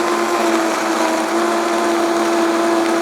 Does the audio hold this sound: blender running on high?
yes